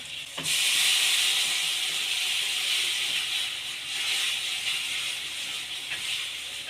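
A paste of poppy seeds and green chilli hits a hot pan with a bit of water and bursts into a loud hiss, then settles into a steady close sizzle that fades only slightly toward the end, with no talking.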